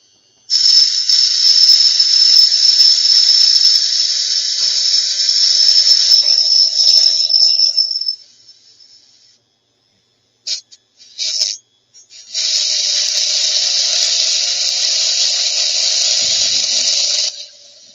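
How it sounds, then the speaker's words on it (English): A Dremel fitted with a cut-off disc grinds through the stem of a wine glass: a loud, close, high-pitched whine that runs for about eight seconds, stops, comes back in a few short bursts, then resumes steadily for five more seconds, with no talking. "I've just got a cut-off disc in my Dremel, and I'm just going to cut off the stem."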